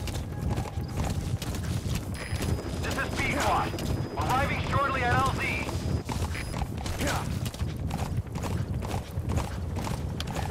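Horse hooves in the video game Metal Gear Solid V: The Phantom Pain, a rhythmic clip-clop over rumbling game ambience, with a short neigh, radio chatter from the game and a player talking over it.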